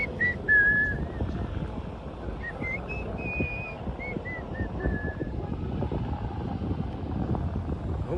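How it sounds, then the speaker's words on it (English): Faint high whistles rise and fall in short bursts over a low rumbling background of wind and engine noise. "I think they hear the whistling."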